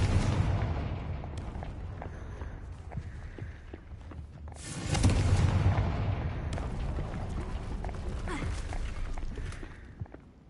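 Blasting spell exploding in Hogwarts Legacy, a single loud, close burst that swells into a rumbling boom amid busy game sounds of clattering and thuds, with no talk.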